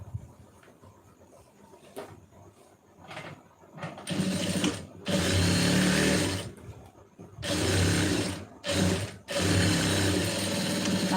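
A sewing machine stitches the seam of a blouse in short mechanical bursts, whirring loudly in runs of about a second or two separated by brief pauses, after quieter handling sounds at the start.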